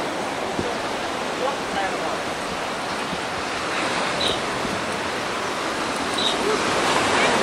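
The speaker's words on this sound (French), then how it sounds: "Regardez les vagues." Ocean waves breaking along the shore at Taghazout, Morocco, a dense steady surf wash filling the scene, loud and continuous with faint distant gull-like cries and no talking.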